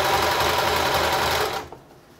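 A White model 1418 sewing machine stitches fabric with a steady, loud mechanical whir that runs on for about a second and a half, then winds down and stops.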